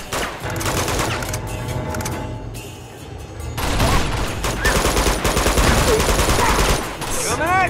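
Shotgun blasts and other gunfire rattle through an Uncharted 2 firefight in bursts of loud reports amid clanks and debris, while someone talks over the action.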